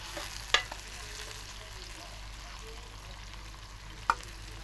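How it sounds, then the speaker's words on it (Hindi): Continuous sizzling of medium onions frying in hot ghee for chicken masala, a steady crackling hiss with two brief scraping stirs of a utensil. "इसके अंदर हम 1 या 2 दरमियाने साइज़ के मैंने प्याज डाल दिए"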